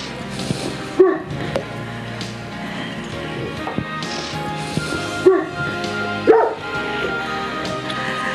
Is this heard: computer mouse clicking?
no